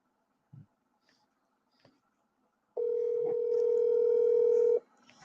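A telephone call to someone named Kingsley begins with a few soft clicks and taps, then a single steady electronic ringing tone sounds for about two seconds before cutting off.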